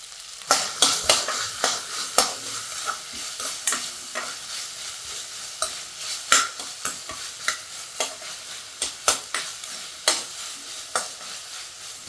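Pirandai, or adamant creeper, frying with rock salt in a pan, giving a steady sizzle broken by repeated sharp scrapes and clacks of stirring at an uneven rhythm, close up with no talk.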